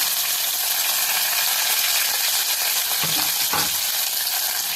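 Onion fries in a pan with garlic and curry leaves, making a bright, continuous close sizzle, with two brief metallic taps of a spoon against the pan near the end.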